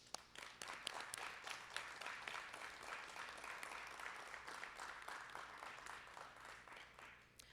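A round of applause from the audience at a high school technical center's NTHS induction ceremony, a quiet, distant, even wash of clapping that holds steady and fades at the end.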